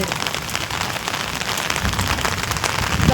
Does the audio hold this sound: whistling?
no